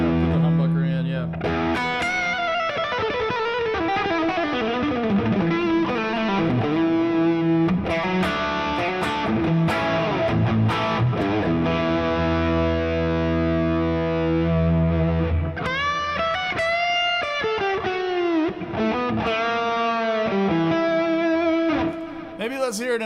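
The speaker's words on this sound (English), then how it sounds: "Put the humbucker in, yeah." Electric guitar on the humbucker pickup run through a Fractal AM4 drive with compression, playing loud, sustained distorted chords and riffs that continue throughout at close range.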